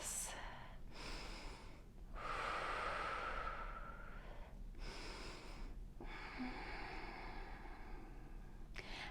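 Slow, deep breaths during a yoga stretch, long airy inhales and exhales close to the microphone over a constant low background hum, with no talking.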